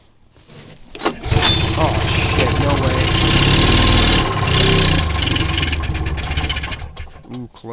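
A Polaris Galaxy snowmobile engine cold-starts after months of sitting, catching with a loud, rough, knocking roar and idling unevenly for several seconds before sputtering down, with a brief exclamation from a nearby voice.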